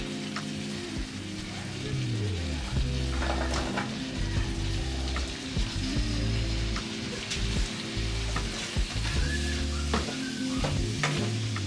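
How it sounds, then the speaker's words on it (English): Beef stew with red wine bubbling and sizzling in a pot as the alcohol cooks off, a steady close simmering patter with occasional stirring sounds. "You burn off this alcohol for like 10 minutes, just let it bubble away"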